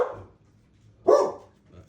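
A pet dog named Winston gives a single sharp bark at close range, followed by a fainter short yip, with quiet room tone in between.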